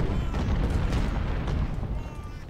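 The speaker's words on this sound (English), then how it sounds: "The cannon's still brutal though." Cannon fire from Civil War artillery at the First Battle of Bull Run in the Ultimate General: Civil War strategy game, heard as dense, rumbling booms layered into a continuous low battle roar.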